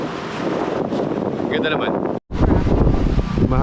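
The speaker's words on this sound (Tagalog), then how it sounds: "Mahangin dito." Strong wind at a beach near Da Nang, Vietnam, buffeting the microphone in loud, continuous gusts, with a person speaking briefly under the roar and a short dropout partway through.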